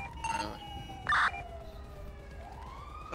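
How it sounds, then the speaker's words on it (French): Police sirens wail faintly in the GTA V video game, a thin wavering tone drifting closer over about three seconds beneath a low, steady rumble. "On entend les sirènes vers nous, hein."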